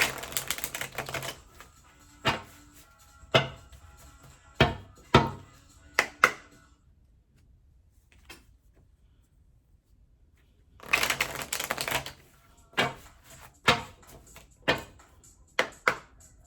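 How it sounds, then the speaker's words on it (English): Oracle cards being shuffled and pulled for a tarot reading, in bursts of crisp riffling and sharp slapping card snaps, separated by a quiet pause in the middle. "let's pull you some oracle cards, try to get you some advice"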